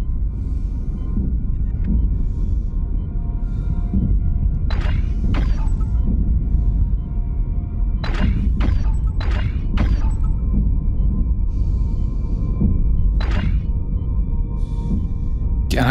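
Dull, throbbing ambient hum from the Dead Space Remake video game, a steady low drone filling the whole stretch, with occasional short metallic clanks and bursts rising above it.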